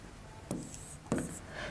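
Pen strokes writing a chemical formula by hand in a chemistry lesson, two short scratchy bursts close to the microphone against quiet room tone.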